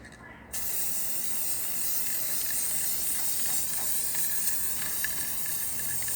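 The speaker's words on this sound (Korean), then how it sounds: "일단 스프레이 페인트를 뿌려보도록 하죠" Spray paint hisses steadily from an aerosol can onto white foam board after a short quiet start, a loud continuous close-up spray with faint rattling ticks.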